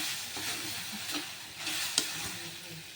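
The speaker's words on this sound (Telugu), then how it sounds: "ఒకసారి బాగా కలిపేసుకుని" Carrot halwa being stirred in a pan, a steady close scraping and soft sizzle with one sharp clink near the end, no voices.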